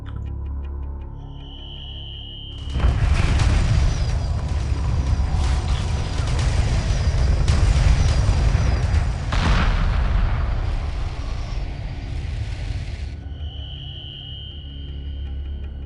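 Heavy destroyer cannons fire in Homeworld Remastered, a deep rumbling barrage that swells in suddenly, holds loud and dense with booming blasts for about ten seconds, then cuts off to a quiet hum.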